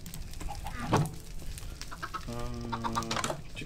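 Chickens in a Minecraft modpack game cluck in short bursts, with one louder squawk followed by a drawn-out cackle, heard alone and fairly close.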